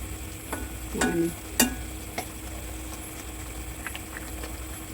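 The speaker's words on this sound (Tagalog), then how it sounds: "Haluin natin ng konti para yung nasa ibabaw." Tokwa (tofu) frying in sauce in a pan and stirred: a low, steady sizzle fills the background, with a few soft scrapes and taps of the spatula, close and quiet.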